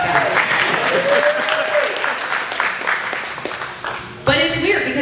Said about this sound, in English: Normally people clap at that.